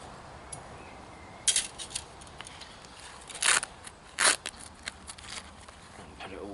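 A small camping stove being folded up and slid into its pouch outdoors: scattered close rustles, clicks and fabric scrapes, with a few louder rubbing bursts and no talk.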